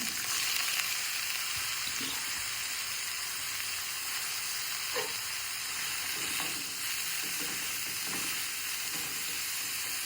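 Spinach hits hot coconut oil in a pan and fries with a loud, constant close-up sizzle and hiss, with a few soft stirring knocks beneath it.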